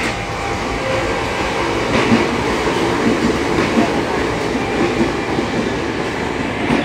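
Inside the rear car of a KRL commuter train running between Jakarta and Bogor, a loud steady rumble of wheels and carriage noise with faint rhythmic clatter, continuous throughout.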